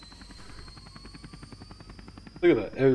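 Helicopter in the Roblox game BlackHawk Rescue Mission, its rotor giving a rapid, even chop throughout before a burst of louder sound near the end, with talk likely present.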